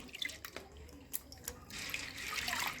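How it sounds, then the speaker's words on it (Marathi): Pigeon pea lentils (toor dal) being rinsed and swished in water, with splashes, drips and running-water rush up close; no talking. "आपण ही आता तुरीची डाळ छान स्वच्छ धुवून घेऊ।"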